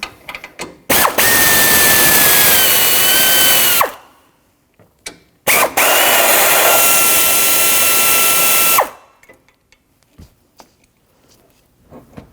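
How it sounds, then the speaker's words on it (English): A power tool fitted with a 10mm socket backs bolts out during a radiator replacement on a 2007-2017 Jeep Patriot 2.4L, giving two long, loud, close whirring bursts separated by a short pause, with no talk. "Now I'll take a 10mm socket and take both those bolts out."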